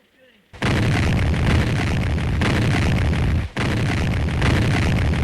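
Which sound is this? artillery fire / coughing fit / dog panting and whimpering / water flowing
artillery fire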